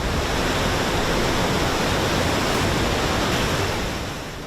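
Floodwater from overflowing rivers bursts its banks and surges through city streets, a loud, steady broadband roar of rushing water that holds constant and eases slightly at the end, with no voices.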